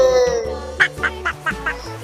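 A series of about five short, nasal honking calls in quick succession, fairly close and loud, like a goose or duck.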